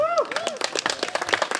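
Spectators at a professional disc golf tournament whoop and clap over an outdoor course, with a rising cheer at the start and scattered claps, all mixed under commentators' talk.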